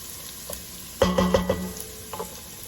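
Onions frying in a pan over a burner at medium-low heat, a soft steady sizzle with a brief cluster of clinking utensil knocks and stirring near the middle.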